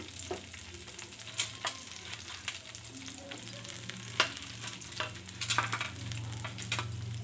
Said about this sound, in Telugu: ఇప్పుడు స్టవ్ ఆన్ చేసుకొని కొంచెం ఆయిల్ పోసుకోవాలండి ఆయిల్ పోసుకొని ఉల్లిపాయ ముక్కలు పచ్చిమిర్చి